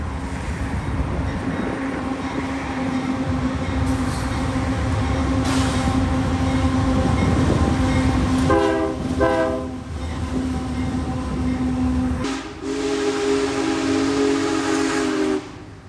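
Union Pacific Big Boy steam locomotive rolling past in North Texas, a loud continuous rumble with two short steam whistle blasts midway and a longer sustained whistle near the end.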